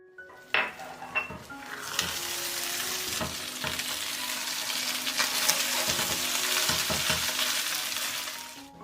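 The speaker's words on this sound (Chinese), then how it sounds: "把鸡蛋液淋进来， 盖上盖子，再煎煮1分钟" Pork ribs with poured-in egg fry in a covered pan, giving a loud, steady sizzle throughout, with a few sharp clinks of a lid or utensil against the pan near the start and scattered knocks later.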